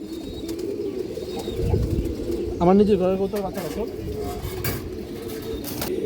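Large pigeons coo softly in a loft amid background murmur, with a short burst of cooing rising clearly midway while someone talks nearby.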